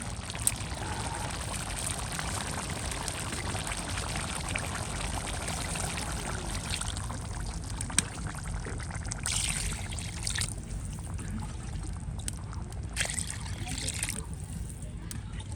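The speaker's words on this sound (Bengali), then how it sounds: "এখন সেটা সিদ্ধ করার জন্য পরিমাণ মতো পানি দিয়ে দেবো" Water poured into a pan of curry that has finished its spice-frying stage, a steady splashing trickle running for several seconds at moderate level, with a faint voice and some kitchen clatter underneath.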